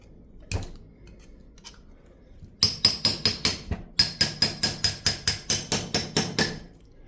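Steady hammer strikes knock loose the varnished steel plates of a transformer being scrapped, about fourteen sharp metallic blows in two rapid rhythmic runs after a single early hit, close and loud.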